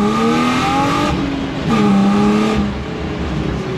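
A BMW 325i engine revs up loudly and steadily during a drift lesson, pitch climbing through the gears with a brief dip before rising again.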